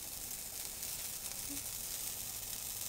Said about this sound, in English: So we're pouring the batter onto the griddle